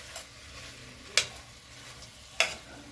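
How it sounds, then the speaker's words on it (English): Thyme and pepper being stirred into curry shrimp in a pot, heard as two sharp, brief scrapes or clinks about a second apart over quiet background. "and then your thyme and your punchy pepper, and then you just stir it in"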